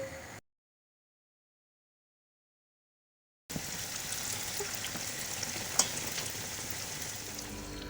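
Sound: frying doughnuts in oil

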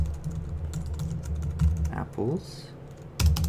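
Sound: typing code on a computer keyboard

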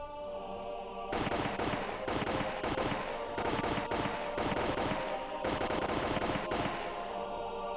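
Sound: gunshots from soldiers firing at escaping people

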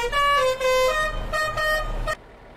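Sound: Indian Tata truck horn in a video game

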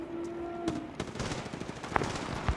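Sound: gunfire in video game Apex Legends Mobile

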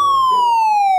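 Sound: police car siren

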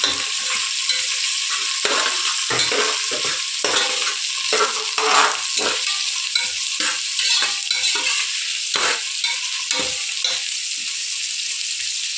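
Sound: stirring and sautéing mushrooms with turmeric in oil

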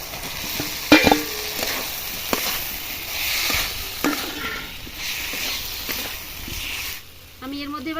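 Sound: fried potatoes added to spiced oil, sizzling

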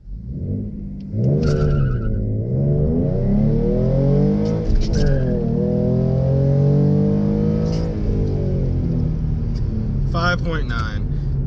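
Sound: tuned 2016 V6 Mustang accelerating in 0-60 run

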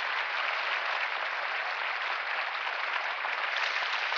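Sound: applause from a packed sports hall crowd

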